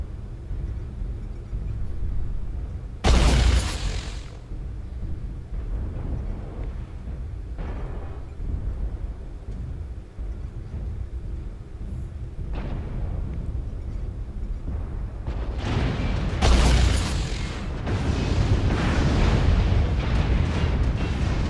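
Heavy booming blasts from battling mechs in MechWarrior Online erupt over a constant rumbling roar, with two sharp, loud bursts and several duller thuds spread through the fight.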